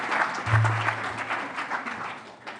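A symposium audience gives sustained applause after a talk, a dense, even patter of many hands at moderate loudness, with a low hum running briefly underneath.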